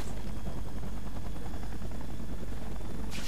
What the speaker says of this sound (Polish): Dobra, lecę za tym helikopterem.